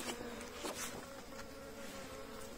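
Stingless bees, uruçu-amarela Melipona rufiventris, buzz around their hive box during a colony split, a continuous close hum with steady droning tones and no voices.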